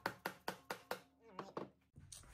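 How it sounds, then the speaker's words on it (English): A mallet knocks repeatedly on an engine cover to work it loose, five sharp evenly spaced blows followed by a few softer taps, close and alone. "We're gonna use our trusty mallet to do just that."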